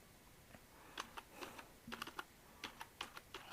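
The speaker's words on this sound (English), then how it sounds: "typing" Typing on a computer keyboard to enter a domain name: irregular bursts of crisp, close keystrokes with short pauses, no voice.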